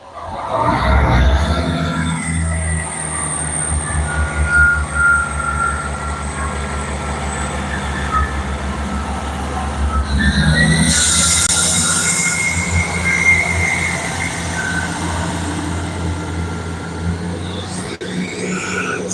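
A ScotRail Class 158 diesel multiple unit passes close by at Monifieth, a loud sustained rumble with rail squeal, swelling again around the midpoint as the carriages roll past, with no talk.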